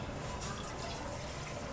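Orange juice poured from a container into a cooking pot on a stove for a cranberry sauce, giving a steady continuous liquid pouring and splashing wash that runs throughout at moderate volume with no talking.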